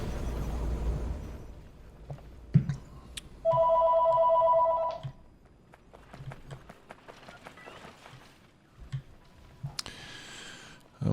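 A telephone rings in a steady electronic trill for about a second and a half, set among scattered clicks and soft background noise, with no one talking.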